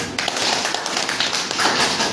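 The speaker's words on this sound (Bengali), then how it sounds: "একবার হাততালি দিন দেখি" An indoor audience at a business meeting claps in a brief burst of dense, overlapping hand claps. The sound is close and fairly loud for a couple of seconds.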